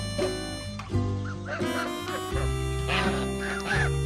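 Several geese honk repeatedly in a crowded pen alongside hens, calls overlapping in busy, close bursts against a steady low background hum.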